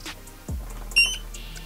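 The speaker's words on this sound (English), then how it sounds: "A self-test is run, the LEDs flash, an audible sound is emitted, and a vibration alarm is activated" A Dräger X-am 8000 portable gas detector runs its power-on self-test, giving a short, sharp high-pitched electronic beep midway through, heard alone over faint handling noise.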